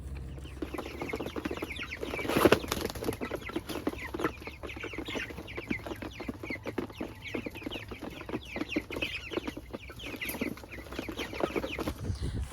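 Meat chickens in a coop keep up a busy chorus of close clucks and chatters, continuous and overlapping throughout, with no talking.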